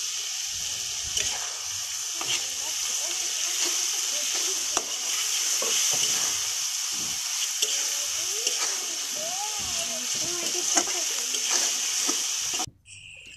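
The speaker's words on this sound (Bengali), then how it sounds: "চিংড়ি মাছটা দিয়ে 5 মিনিট কষব, চিংড়ি মাছটা না হলে সিদ্ধ হবে না।" Shrimp stir-frying in a pan for a Bengali fish bhuna, a steady close sizzle of hot oil with scattered stirring scrapes and clinks throughout, ending abruptly.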